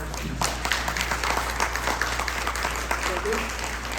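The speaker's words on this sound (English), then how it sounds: "Let's give a round of applause for all the candidates to answer these questions." A city council election candidate forum audience applauds the candidates, a moderate round of clapping heard over a low electrical hum in a meeting hall.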